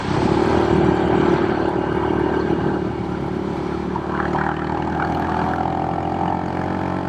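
A modified Royal Enfield Hunter 350 motorcycle cruises down the road with a steady, droning single-cylinder note and heavy wind rush, the engine pitch shifting slightly as it pulls along.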